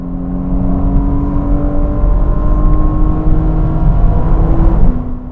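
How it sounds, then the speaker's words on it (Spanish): Porsche Panamera 4 E-Hybrid in Sport Response mode, giving a loud, steady engine hum with a rising whine that holds for several seconds before dropping off at the end. "Inmediatamente el coche se pone en Sport Response, como puedes ver cambia el sonido"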